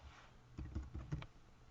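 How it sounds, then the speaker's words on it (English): Typing on a computer keyboard, a brief quiet burst of several soft key clicks against faint room noise. "you just type it, you start typing"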